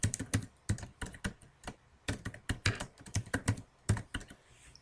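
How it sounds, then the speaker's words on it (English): Rapid keystrokes on a computer keyboard as a password is entered, a close, irregular patter of distinct clicks with short pauses between bursts. "just typing my password."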